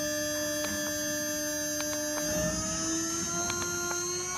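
Spindle of a 4040 CNC machine running at speed under inverter control, a steady close whine with several stacked high tones and a low hum, holding constant with faint ticks throughout.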